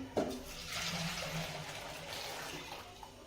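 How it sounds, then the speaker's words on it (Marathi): Hot water from a pressure cooker is poured into washed lentils for a spinach dish, a soft splashing rush that is faint, quiet and alone. "ते पाणी गरम झालेलं आपल्याला काय करायचंय, जी आपण डाळ धुवून घेतली होती त्या डाळीमध्ये ओतून घ्यायचंय."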